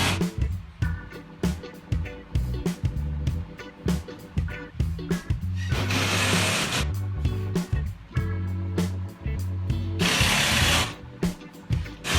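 A power drill driving screws into parts of a 47-foot DIY catamaran kit under construction, repeated short whirring bursts with pauses between, close and fairly loud.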